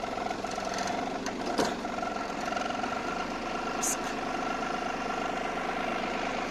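A motor cultivator's small engine runs steadily with a mid-pitched droning hum and vibration during a test drive outdoors, fairly faint and continuous, with a few sharp knocks.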